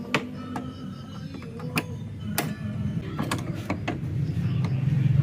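Tools work on the bolts of a Honda Click scooter's front shock, giving close metallic clicks, ratcheting taps and scraping that grow busier and louder toward the end, with no speech.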